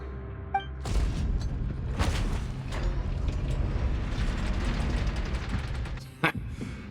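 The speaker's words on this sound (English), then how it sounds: "The door's closing!" A secret door mechanism closing in the Genshin Impact video game gives a heavy, sustained rumbling grind that starts abruptly and runs for several seconds, with creaks and a thud near the end.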